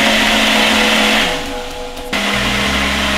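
A Ninja blender motor whirs loudly as it blends a thick smoothie, a steady high-pitched drone that dips and labors briefly before surging back to full speed, with no voices.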